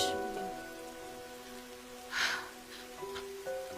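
Rain falls steadily in a soft, even patter under drama music and tones, moderately faint with a couple of brief louder breathy swells.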